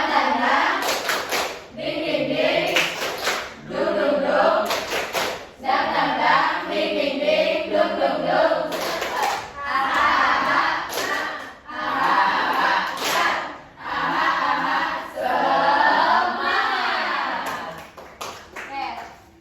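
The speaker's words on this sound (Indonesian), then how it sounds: "Tepuk semangat." A primary-school class claps a rhythmic spirit clap (tepuk semangat) together, with bursts of sharp group claps between stretches of chanting children's voices, close and lively.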